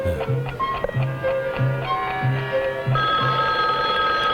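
A telephone rings in a repeated rhythmic pattern of about six bursts, each a bright trilling bell tone, fairly close and clear, with no talking over it.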